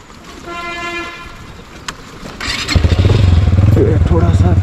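A motorcycle on a mountain road in Neelum Valley, Azad Kashmir, is started, then its engine settles into a loud, steady, close-up idle and throbbing run, with a short horn-like toot early on.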